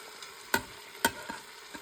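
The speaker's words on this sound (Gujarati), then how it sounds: "જો બટેકા નાખી દીધા છે, હવે બીજા બધા વેજીસ છે એ પણ આપણે નાખી દઈશું અંદર." Potatoes and mixed vegetables tossed into hot oil tempered with mustard seeds, cumin and asafoetida for spinach khichdi, with a few sharp clacks from a spoon over a low sizzle, close and brief.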